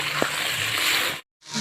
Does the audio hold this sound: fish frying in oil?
yes